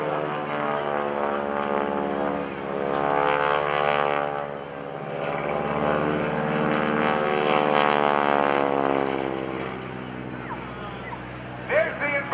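Propeller aerobatic plane flying an inverted roll at an NAS Oceana airshow, a steady droning engine note that swells and shifts in pitch as the aircraft passes, with an announcer talking over it.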